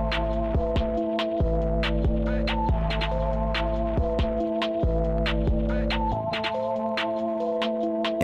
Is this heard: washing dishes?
no